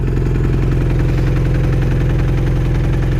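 A 1981 Honda CB900F motorcycle idles with a Yoshimura exhaust, a loud, steady, close throb with an even pulsing beat throughout.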